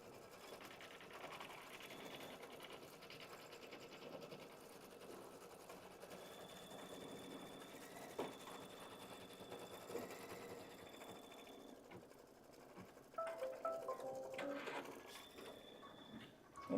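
Kimberbell embroidery machine stitching a placement line for quilt batting, a soft continuous whirring hum of rapid needle strokes with faint mechanical clicks and a brief beep near the end.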